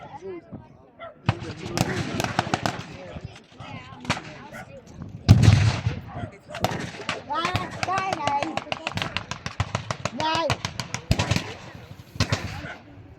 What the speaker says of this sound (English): Now there's been a blast with 25 pounders.